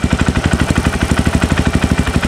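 A motorcycle engine idles loud and close after tuning with a Juken 5 ECU, putting out a steady, even stream of rapid low pulses with no other sound.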